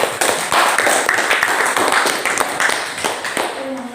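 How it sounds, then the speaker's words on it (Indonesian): Classroom students applauding a group of classmates, a few seconds of steady, fairly loud scattered clapping from many hands, with voices mixed in beneath it. "Jadi tepuk tangan dulu sama kelompok."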